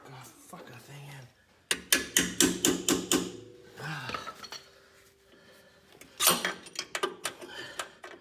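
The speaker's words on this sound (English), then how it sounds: "let's hammer that fucker thing in" A hammer drives a pin into the front shock absorber of a 1994 Mercedes-Benz C280 with two quick bursts of sharp metallic blows, five or six strikes each, separated by a pause with a voice talking.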